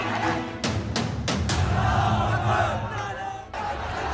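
A dense riot crowd packed at a city crossroads in Jodhpur roars and shouts continuously, with several sharp loud thuds or bangs early on over the steady crowd noise.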